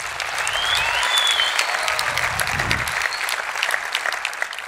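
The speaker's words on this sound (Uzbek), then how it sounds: "bir chiroyli olqishlab qo'yaylik" Concert audience applauding at a stand-up comedy show, a sustained dense wash of clapping from a large crowd that swells and holds steady across the whole stretch.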